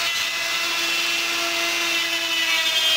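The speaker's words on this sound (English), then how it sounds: "get this grinder bit here, turn it on, and sand it down until it's even with the cuts you just made" A rotary grinder bit spins at high speed against a push button trigger valve, sanding it down with a steady, loud, continuous whine and two sustained tones throughout, no talk.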